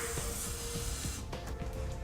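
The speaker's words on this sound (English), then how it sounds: "Spray this down with some lubricant too." Lubricant sprays from an aerosol can onto a car's exhaust hanger, a steady close hiss that cuts off partway through, followed by faint handling noise.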